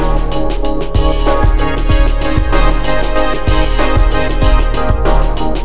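A sustained synth pad from a Propellerheads Pulsar LGM-1 rack extension, with a rhythmic LFO filter sweep rising and falling in repeating pulses, loud and continuous with no talking.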